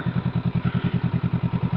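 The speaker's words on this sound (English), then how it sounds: "the bike's been running now for quite a while and the engine's still on now" A Honda CL500 motorcycle engine runs at idle close by, a steady, rapid, even train of low thumping pulses with no voices.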